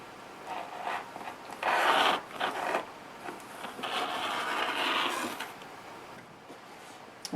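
Hobby Lobby craft material is cut close up in a quiet room, heard as uneven scraping strokes and rasping bursts of varied length.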